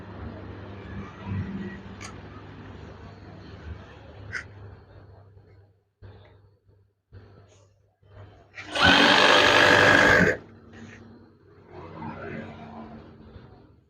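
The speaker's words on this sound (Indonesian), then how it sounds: "Jahit secara perlahan." Sewing machine stitching a curtain, a loud steady whirring burst lasting about a second and a half, surrounded by quieter handling sounds and faint background hum.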